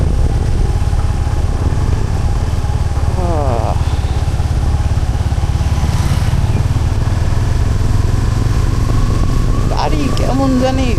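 A Suzuki Gixxer SF 250 motorcycle engine runs in a lower gear on a rough city road, a loud steady close-up drone throughout with a couple of brief rising whine swells.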